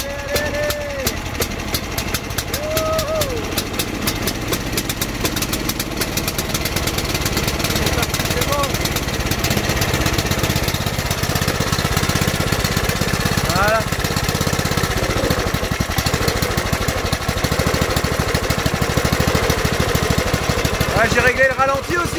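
An old ride-on lawn tractor engine runs steadily and loudly at a rough, buzzing idle throughout, with someone speaking over it now and then.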